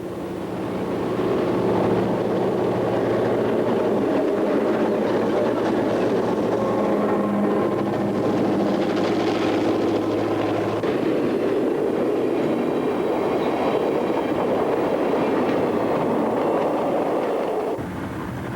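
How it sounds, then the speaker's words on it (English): A CSX stack and piggyback freight train led by six B36-7 diesel locomotives nears Chattanooga, Tennessee, with a loud, steady engine roar and rolling rumble that holds for the whole stretch, no voices. "Six B36-7s provide heavy power for a long stack and pig train approaching Chattanooga, Tennessee"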